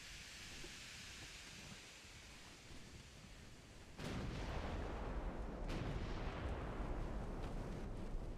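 A battleship's 12.1-inch naval guns fire in the Ultimate Admiral Dreadnoughts naval battle. A heavy boom cuts in sharply and then rolls on as a sustained roar, with a few further distant thuds.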